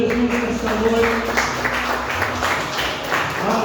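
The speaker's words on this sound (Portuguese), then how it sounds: "Você que pode aplaudir ao Senhor Jesus nesta noite" A church congregation at an evening celebration service claps together in a sustained round of applause that fills the hall, with faint voices mixed in.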